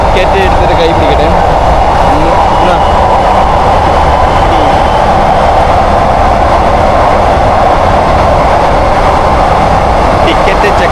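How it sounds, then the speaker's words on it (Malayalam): Steady, loud rumble and rattle from inside a moving train on the Bangkok to Chiang Mai line as it passes a metro train, continuous noise with faint voices underneath throughout. "മെട്രോ ട്രെയിനെ ക്രോസ് ചെയ്തിട്ടാണ് പോകുന്നത്."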